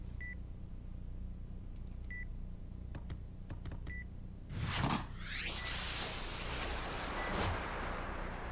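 A planted bomb in a tactical shooter beeps in sharp, evenly spaced electronic tones, followed by a loud whooshing rush of noise, all over a low game ambience.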